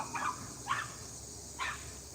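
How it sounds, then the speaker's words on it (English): A dog barks four times at a distance, short faint yaps in uneven pairs against a quiet indoor room tone. "You hear the dog barking?"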